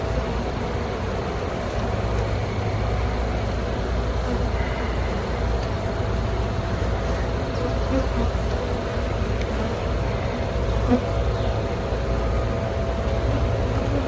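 Dense, continuous buzzing of many honeybees around an open hive during an inspection fills the scene at close range, with a low mechanical hum underneath and no talking.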